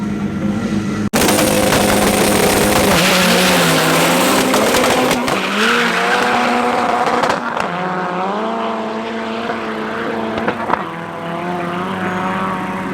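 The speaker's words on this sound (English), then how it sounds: "You'll hear these two battle for traction now as they go down." Two drag race cars roar loudly nearby at Midvaal Raceway, engines rising in pitch through repeated gear shifts, with a brief burst of tire squeal as they fight for traction and pull away.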